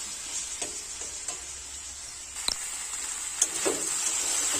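Potato and spinach sautéing in oil, a steady hiss under scattered taps and scrapes of stirring, with a slightly sharper clack near the end, all close by with no talking.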